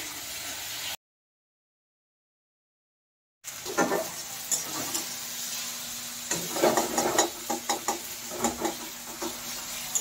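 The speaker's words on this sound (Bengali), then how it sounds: "টমেটো ভাজা হয়ে গিয়েছে" Tomatoes fry in a pan with a little salt, giving a soft, steady sizzle with scattered stirring scrapes after a brief gap of silence, close and moderately loud.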